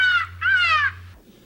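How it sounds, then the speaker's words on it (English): Comedic high-pitched shark sound effect: two squeaky, wavering, bird-like chirps in quick succession over a low steady hum, then quiet. "the high-pitched frequencies given off by sharks that sound like this"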